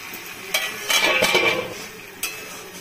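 Spices cooked down with water in a pan for egg rezala, a spoon scraping and clinking against the pan with a soft sizzle, a few distinct knocks against the metal.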